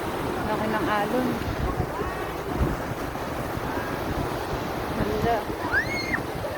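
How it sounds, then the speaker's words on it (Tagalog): Large ocean waves roll onto a beach as constant broadband surf wash, with wind buffeting the microphone, close and steady throughout, while people talk over it. "Lalaki ng alon, no?"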